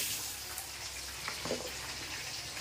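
Potatoes fry in hot oil in a pan, making a steady, fairly loud hiss and crackle throughout, heard close and without speech.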